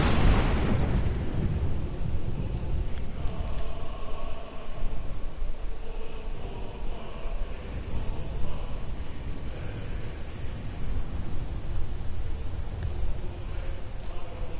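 Booming bomb explosions in Skyrim, a deep, continuous rumbling roar that starts with a loud burst and keeps churning through the whole stretch with no voices over it.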